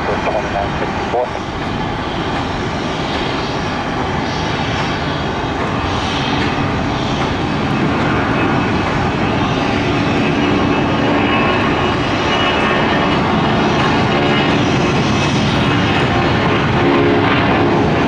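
A Southwest Airlines jet roars down the runway on takeoff at Tampa airport, a loud sustained engine rumble building steadily and filling the scene, with voices and a radio call faintly underneath.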